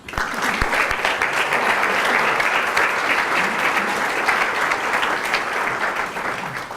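An audience gives sustained, dense applause welcoming Carmen Ramos to the stage at a gallery talk, loud and steady throughout before easing slightly at the end.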